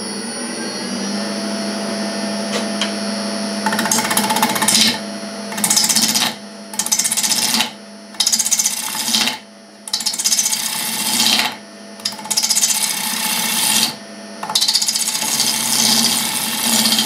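Sycamore wood being shaped on a lathe for an eight-sided tazza, with a tool cutting the spinning edge: steady motor hum overlaid by repeated loud, rough scraping bursts lasting a second or two, separated by short pauses.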